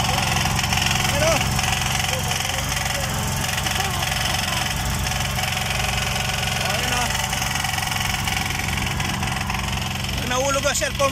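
A boat engine drones steadily and loudly throughout, a constant mechanical hum with vibration, while someone talks over it now and then.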